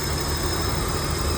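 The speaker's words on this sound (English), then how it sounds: "I am stoked that it's running, idling on its own" A BMW E36 engine, recently fixed after a no-crank no-start fault, idles on its own with a steady, even rumble close by and no one speaking.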